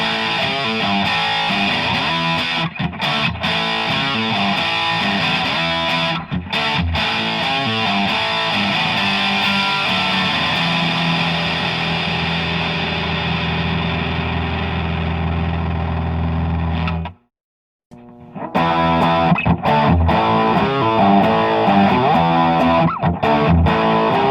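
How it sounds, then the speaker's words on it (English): Heavily distorted electric guitar driven through distortion pedals, with dense chugging riffs and sustained crunch, brief cut-outs as pedals and modes switch on and off, then a full-gain return; loud and close, no talking. "how it's kind of reacting when he's turning the pedals on and off"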